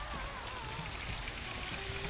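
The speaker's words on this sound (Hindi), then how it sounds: "तो देख सकते हैं कितना तेज बारिश हो रही है बाहर" Heavy rain pours down outside in a village, a dense, steady hiss and patter that stays constant and fairly loud throughout, with no voices.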